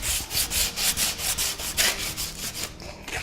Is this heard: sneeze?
no